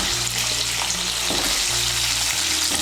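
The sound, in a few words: potato pieces frying in oil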